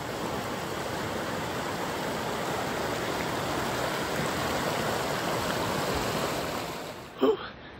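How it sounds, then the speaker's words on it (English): Rock Creek rushes past a hiking-trail crossing on the Pacific Crest Trail near Mount Whitney, a steady, close broadband roar of flowing water that ends with a brief knock. "we got our first water crossing of any significance at Rock Creek"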